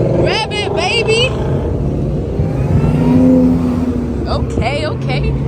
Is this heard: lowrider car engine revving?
yes